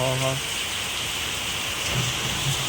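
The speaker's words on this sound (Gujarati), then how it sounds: "બાકી વરસાદ તો ધમ ધોકાર વરસી રહ્યો છે" Heavy rain pours steadily in a village setting during a power cut, a dense, constant hiss of drops on surfaces, with brief short tonal sounds at the very start and a few faint low thumps later.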